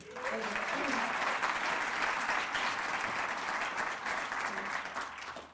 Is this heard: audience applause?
yes